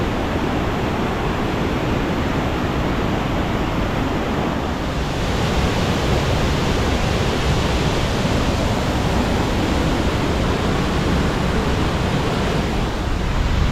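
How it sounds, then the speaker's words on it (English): A steady, roaring rush of a waterfall in Geiranger, Norway, fills the air, broad and continuous like heavy surf, loud and unbroken throughout with no voices. "We're doing a little short walk to check out the waterfall."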